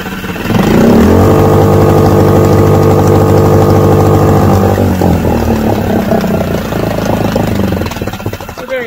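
A Yamaha 6hp outboard motor, carburettor just cleaned, starting up and running loud and close, a steady buzzing drone that holds for several seconds then settles into a rougher, slightly uneven idle.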